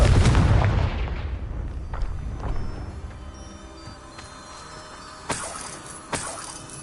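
Confringo spell blast in Hogwarts Legacy, a loud booming burst that fades into a lingering tail, followed by a few smaller sharp cracks and clinks.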